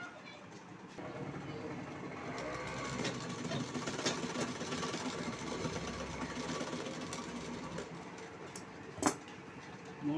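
A sewing machine runs steadily while stitching a blouse sleeve, putting in three lines of stitching at the armhole, a continuous mechanical whir with a soft tick near the end.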